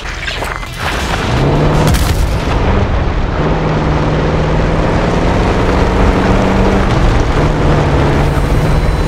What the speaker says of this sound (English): Gunfire to the right.